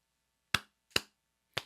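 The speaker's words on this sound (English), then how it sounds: "So claps, claps, claps, spooky claps." Three sharp, dry claps land close to the microphone with roughly half-second gaps between them, each crisp and brief against near silence.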